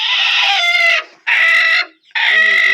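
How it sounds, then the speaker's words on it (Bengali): A hen clucks in a village yard, three loud close bursts of rapid, bright clucking separated by brief pauses. "মুরগি, একা একা একা করতেছে।"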